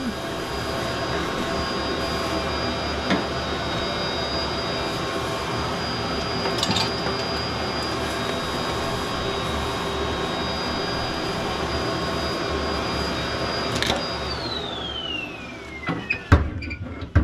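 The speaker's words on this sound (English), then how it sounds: "Move around. Hoover everywhere." A vacuum cleaner hoovers up soot after a tarry flue was swept with a cable loop. Its roar is loud, close and constant, with a few knocks and a falling whine near the end as the motor winds down.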